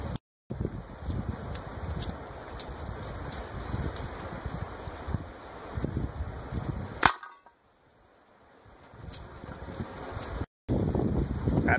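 A Daisy 880 air rifle, pumped four times, fires a pellet at an outdoor target. A single sharp crack cuts through steady heavy wind noise, followed by a brief hush, with a later click-like dropout.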